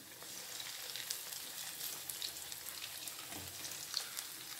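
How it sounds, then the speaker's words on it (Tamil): Okra vadas deep fry in hot oil over a medium flame, a faint, steady bubbling hiss with small scattered pops throughout, no voices. "இந்த பக்கம் நல்லா பொரியட்டும்"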